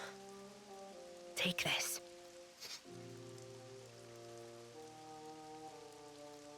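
Steady rain hisses through a Xenoblade Chronicles 3 scene beneath sustained music, a soft, even wash that runs the whole time. A short spoken line and a brief burst of louder effects cut in near the start.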